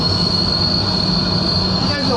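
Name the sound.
train effect in Millennium Falcon Smuggler's Run ride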